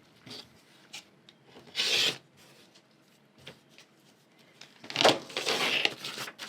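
Rotary cutter or trimming tool running along a quilt fabric piece on a cutting surface, giving a few brief soft rubbing swipes, with a longer, louder rasping stroke near the end.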